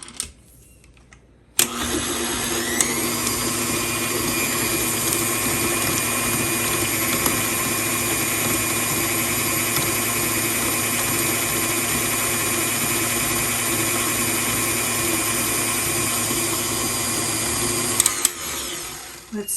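A KitchenAid stand mixer creams butter for funfetti sugar cookie dough, its motor giving a loud, steady whirring hum that starts abruptly and runs unbroken before cutting off near the end.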